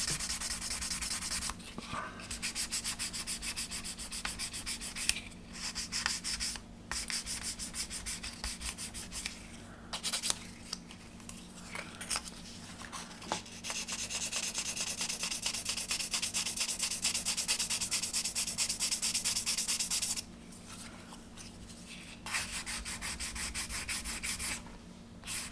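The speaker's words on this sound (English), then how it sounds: "I think we're best taking those down with our sanding stick." A sanding stick rubs sprue gates off plastic model kit parts in close, scratchy back-and-forth strokes, working in long runs broken by short pauses, with no talking.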